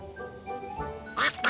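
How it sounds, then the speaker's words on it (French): A duck lets out a couple of loud, raspy quacks near the end, following a stretch of softer background sound. "Regarde, il y a un canard qui se promène."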